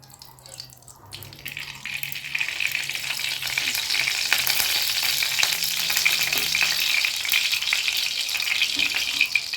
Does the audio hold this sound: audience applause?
no